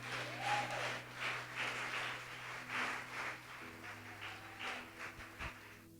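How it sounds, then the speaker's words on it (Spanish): Church congregation applauding, a soft, sustained patter of many hands clapping in pulsing waves, somewhat distant, over a low steady hum. "¿Cuántos aplauden el nombre del Señor?"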